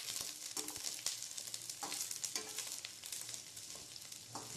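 Carrot and cabbage stir-frying in oil for egg noodles, a soft continuous sizzle broken by scattered clicks and scrapes of a spatula stirring the vegetables, fairly quiet with no voices.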